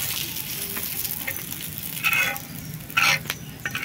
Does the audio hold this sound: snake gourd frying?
yes